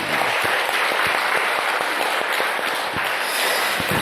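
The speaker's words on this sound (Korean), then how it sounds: "우리 찬양대도 열심히 하라고 한번 박수 한번 쳐드립시다." Church congregation applauding the choir during a Sunday service, a loud dense burst of clapping with sharp individual claps standing out, sustained throughout.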